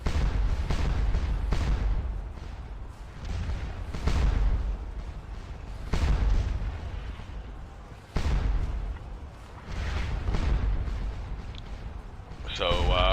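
Napoleonic cannon battery firing in the Scourge of War Waterloo battle game, with heavy booming shots every couple of seconds, each rolling off into a long rumble.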